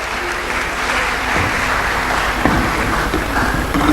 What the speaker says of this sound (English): Please welcome him with a clap.